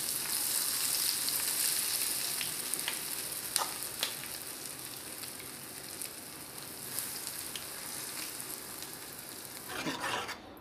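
Ginger garlic paste sizzles in hot oil with mustard seeds, cumin and fenugreek for an avakaya pickle, with steady close frying crackle, scattered sharp pops, and a burst of stirring near the end.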